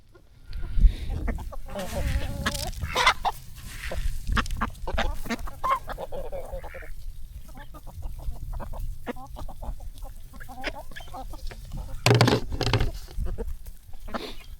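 Chickens clucking and calling at a backyard farm, a steady scatter of short clucks and squawks close by over light rustling, with a louder burst of calls near the end.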